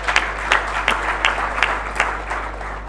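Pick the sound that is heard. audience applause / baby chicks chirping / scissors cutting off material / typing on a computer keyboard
audience applause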